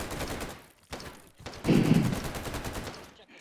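Rifle shots from an FN SCAR Mk16 5.56 in the virtual reality shooter H3VR, a few quick cracks with a louder burst near the middle, heard close up.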